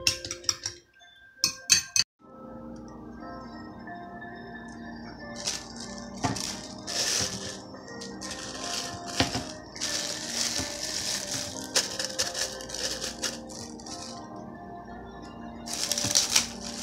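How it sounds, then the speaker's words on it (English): Eggs and chopped green onions are whisked in a bowl, giving a steady run of quick metallic clinks and scraping rattles up close. The whisking continues without a break for most of the stretch and no one speaks. "So let's whisk it."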